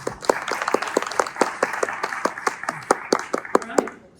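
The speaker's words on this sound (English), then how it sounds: "Let's give them a round of applause." Audience at a mayoral candidate debate in a theater clapping, a few dozen sharp, distinct claps in a loose rhythm, fairly close and moderately loud, with some voices mixed in.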